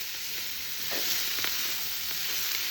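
Garlic tossed into a hot wok for homemade lasagna, giving a close, steady hissing sizzle throughout with a few soft stirring scrapes.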